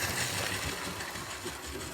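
A small motor whirs steadily at close range with a buzzy, mechanical hum, a toy-like sound from an old Bachmann Burlington Route 4-8-4 model locomotive running along track.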